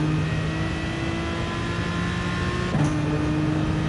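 Race car engine in a PS4 team racing game, a steady droning whine with sustained tonal hum and a brief pitch shift near the end, loud and continuous with no talk.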